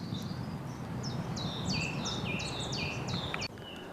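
Songbirds in a woodland thicket at Nursery Wood give a clear, fast series of bright chirps and trills, moderately near, over a broad rustling background of leaves.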